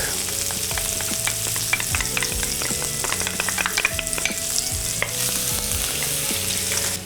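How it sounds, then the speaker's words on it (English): Shallots and garlic frying in butter, a steady close sizzle running the whole time with many small crackles and the scrape of stirring in the pan, no talk. "To that butter, I'm gonna add some shallots,"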